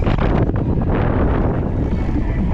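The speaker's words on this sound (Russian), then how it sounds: "О, ветер." Heavy wind buffets the microphone in a constant low roar during a Crimean road trip, rumbling and gusting loudly for the whole moment.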